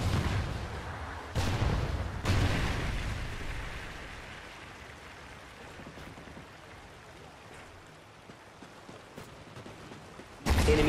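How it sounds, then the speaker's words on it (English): Trinity rocket strikes hit in a shooter video game, with sharp, heavy blasts at separate moments. Each impact is followed by a long rumbling decay under a low background hiss, and a final loud blast ends the sequence. "Friendly Trinity rocket sounding inbound."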